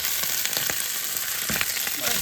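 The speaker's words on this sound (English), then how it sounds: "watch it like sizzles and darkens. It's cooking. That's the fat action there." Canned corned beef hash frying in a pan gives a steady, close sizzle with scattered fat pops and crackles throughout, with no voices.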